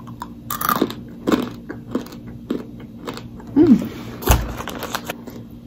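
A piece of cooked noodle bitten and crunched close up, several crisp snapping bites and chewing clicks spread unevenly over a few seconds, with a voice murmuring briefly in between.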